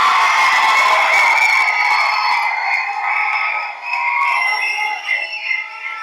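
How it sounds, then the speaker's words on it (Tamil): A large audience at a film event cheers and shouts loudly for actor Santhanam, a sustained roar of many voices that stays strong before easing and fluctuating near the end. "சந்தானம் அவர்களே ஒரு பெரிய கைத்தட்டலோட"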